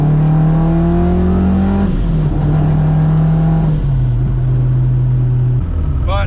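An AWD K-swapped turbocharged Honda Civic pulls hard through the gears, its loud engine note climbing in steady rising sweeps with brief drops at each shift and a missed fourth-gear change, heard close and continuous.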